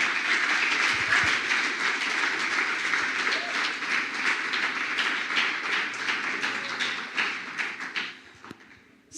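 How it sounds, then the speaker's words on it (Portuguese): A church congregation applauds during a sermon, a dense, steady clapping that fills the space and tapers off near the end. "Aplauda Jesus por isso."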